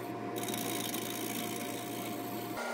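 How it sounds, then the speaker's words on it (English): Bowl gouge hollowing a maple bowl on a wood lathe, a steady close cutting hiss over the lathe's constant hum, stopping abruptly near the end. "starting the hollowing out process, still with the bowl gouge"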